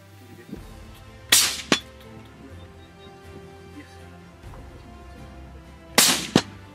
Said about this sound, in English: Every shot was a hit.